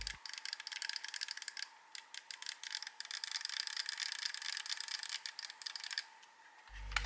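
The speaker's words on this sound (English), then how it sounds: "used micro switches that were super clicky and sounded so good" Rapid, crisp clicking of the micro-switch joystick on a Gamepark GP32 handheld, pressed in quick irregular flurries, close and alone for several seconds.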